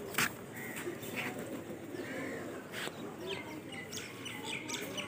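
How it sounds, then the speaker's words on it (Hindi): Pigeons at a rooftop loft in the early morning, with scattered soft coos and chirps and bursts of wing flapping as the flock takes off, over a steady outdoor background; faint voices occasionally. "ये कबूतर सारे उड़ गए।"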